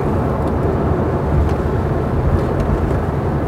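Broad, steady low rumble of an airplane passing overhead near an airport in Dubai, loud and continuous with no distinct events.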